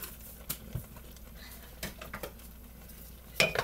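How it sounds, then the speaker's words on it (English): A utensil stirs seasoning through egg noodles for mac and cheese in a pot, with soft scraping strokes and a few sharp clinks against the pan, fairly quiet and close, no talking. "Stirring the seasoning up in there."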